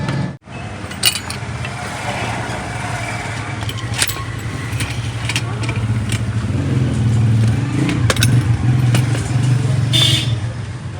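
A motorbike rides through a narrow residential lane. Its engine drones steadily throughout, mixed with road hiss and intermittent metallic clinks and rattles, with no talking.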